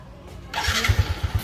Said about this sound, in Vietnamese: Bây giờ nổ máy,